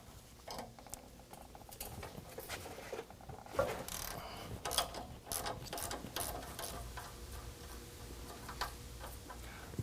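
Pass-through socket ratchet working an 18 mm nut on a 2022 Ford Maverick strut during a Superlift 2.5-inch lift kit install: quiet, irregular bursts of sharp ratcheting clicks close by, without talk.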